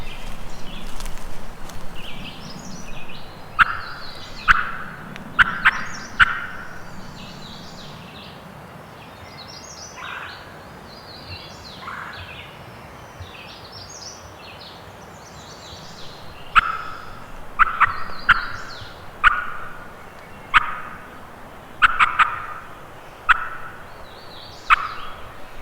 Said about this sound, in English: I just heard him gobble back here.